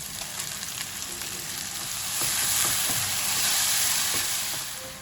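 Chopped tomatoes tipped into a pan of frying onion, ginger and garlic for chicken bhuna masala, a steady close sizzle that swells louder midway with stirring scrapes and no talk.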